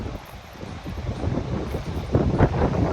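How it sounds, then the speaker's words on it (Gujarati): Wind blows at the seashore, buffeting the microphone with a low, gusty rumble that swells and rises toward the end, with no voices. "મસ્ત પવન આવે છે"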